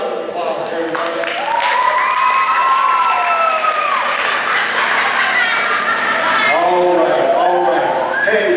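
Loud crowd applause at a county fair main stage show, with cheers and whoops rising over steady clapping throughout.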